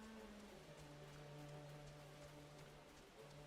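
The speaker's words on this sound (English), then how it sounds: "And it's raining." Steady rain falls in the Final Fantasy XIV Online game world, a constant, even hiss that holds at the same level throughout, with faint sustained tones running underneath.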